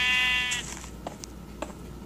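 A sheep in the Minecraft video game lets out one clear, close bleat at the start, followed by quiet scattered game clicks and taps.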